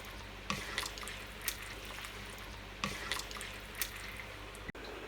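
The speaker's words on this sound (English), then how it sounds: "To that, add 500 milliliters of the pork water." Pork water poured onto dried fermented red rice for Hakka-style red pork, heard as a few soft separate splashes and drips at intervals over a low steady background, with no talk.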